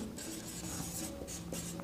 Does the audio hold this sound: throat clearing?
no